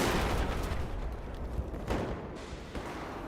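Hip-fired gunshots ring out in Battlefield 4, a dense run of rapid rifle shots over continuous loud battle noise, with a few sharper cracks standing out.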